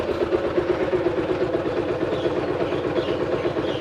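Stock Honda Spark 135 motorcycle engine idling close by with a steady, low rhythmic chug and fairly even loudness, no one speaking over it.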